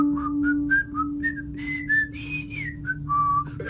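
A person whistles a bright, bouncy melody of short rising and falling notes over a low steady hum.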